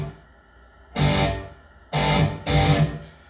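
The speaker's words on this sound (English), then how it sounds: "The reverb that's on here, just in case I do kick it on, sounds like this." Three short bursts of distorted electric guitar chords ring out through a short reverb effect, each followed by a brief reverb tail before the next strum.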